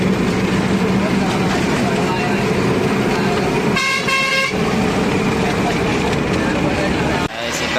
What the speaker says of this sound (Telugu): ఇక్కడైతే మస్తు ట్రాఫిక్ అయింది